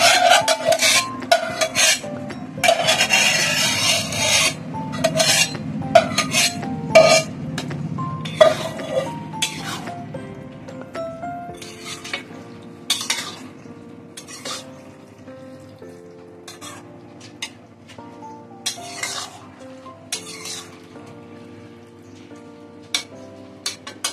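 Chana dal stirred into fried masala in a pan, with repeated scraping strokes of a spoon and faint sizzling, busier at first and then sparser, irregular knocks continuing to the end.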